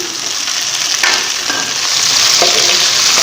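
Steady, loud sizzling and crackling of tomatoes frying in a hot pan for masoor daal, with occasional stirring scrapes and no voices.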